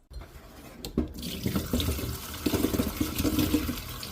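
Eggplants being rinsed of salt water in a sink, with running tap water splashing and sloshing steadily throughout, close and moderately loud, with no talking.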